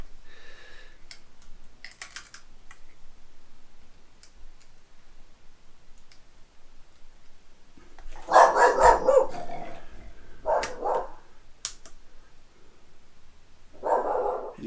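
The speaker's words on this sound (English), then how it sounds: "there's a very dangerous dog in the background. It's my Danish-Swedish farm dog, Bølle, who's watching the grounds." A Danish-Swedish farm dog barks in a few short bursts from the background at a moderate distance, with soft ticking between and no talk.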